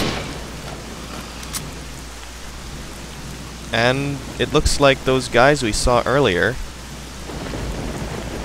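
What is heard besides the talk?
rain and thunder in the video game STALKER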